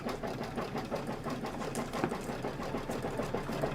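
An embroidery sewing machine stitches fabric with a rapid, steady mechanical whirring and dense rhythmic needle clatter, close and continuous throughout.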